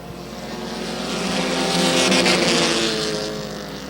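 Race cars roar past on a racing track at a short-track racing event, a loud engine drone swelling as the cars close in and fading as they move away.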